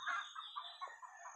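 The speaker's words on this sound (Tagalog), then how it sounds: "yung manok na wild mga tol, wild chicken, yung manok ihalas." Wild chicken clucking in a steep mountain forest, a short series of faint, distant clucks with nothing else heard.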